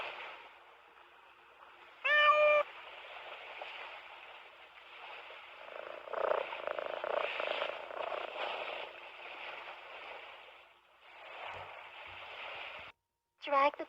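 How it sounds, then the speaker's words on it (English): A cartoonish cat meow in a children's alphabet game, short and bright near the start and again at the end, amid a bandlimited, radio-like background hiss and faint murmur. "C is for cat."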